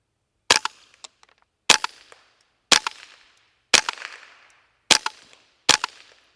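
Six sharp gunshots from a Ruger 10/22 .22 rifle fired at a 4-inch steel plate 100 yards away, spaced about a second apart, each a crisp crack with a short trailing echo, with no voices.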